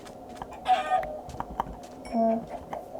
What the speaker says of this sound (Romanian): A, găini!